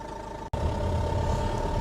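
A Nissan Pulsar engine with an ECU fault runs steadily with a low hum and a faint whine, broken by one brief dropout.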